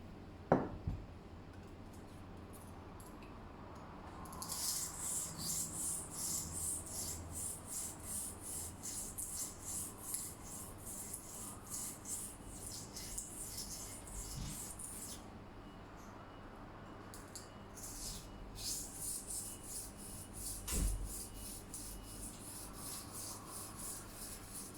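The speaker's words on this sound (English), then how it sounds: "So the secret is to invest in a very good sharpening stone." A knife blade is stroked across a sharpening stone in repeated rhythmic rasping passes, close and fairly quiet, with short pauses between sets of strokes.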